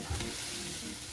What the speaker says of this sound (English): Start to mix it around a bit with our peppers and onion.